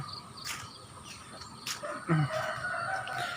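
Chickens cluck around a rural Isan garden with banana trees while a rooster crows nearby, their calls mixed with faint crickets in an open outdoor setting.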